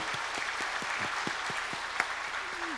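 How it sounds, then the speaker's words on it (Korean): Audience in a church service claps to welcome newcomers, a steady wash of many hands applauding with a few distinct nearby claps standing out, continuous and moderately loud. "우리 그분들을 환영하는 박수를 드리도록 하겠습니다"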